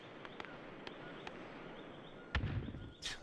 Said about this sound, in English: Again, somebody's posted grenades.